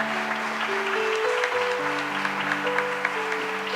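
Church congregation applauding during a Spanish-language sermon, steady clapping under sustained organ or keyboard chords that carry through the whole stretch.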